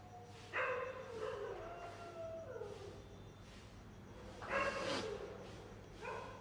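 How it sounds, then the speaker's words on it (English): Dogs in the distance bark and howl in drawn-out, wavering calls, repeating a few times over a low background hum. "Do you hear these dogs?"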